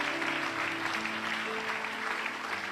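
Steady audience applause at a church gathering, continuous and fairly dense, with faint tonal sounds lingering beneath the clapping.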